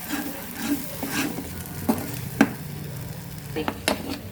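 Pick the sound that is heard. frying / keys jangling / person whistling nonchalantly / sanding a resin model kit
frying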